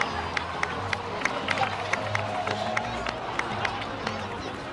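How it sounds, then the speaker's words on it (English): A video game crowd applauds steadily, many hands clapping in a continuous patter over a low, even background murmur. "please give another round of applause for them"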